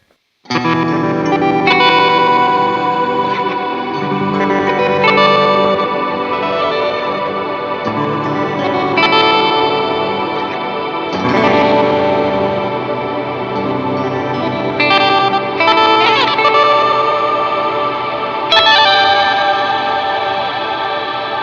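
Old Blood Noise Setback reverse delay pedal with reverb added, under a guitar: a continuous loud wash of backward-swelling chords and warbling, pitch-bending repeats, smeared into a long reverberant tail and sustained throughout without pauses or voices.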